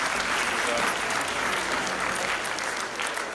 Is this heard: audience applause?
yes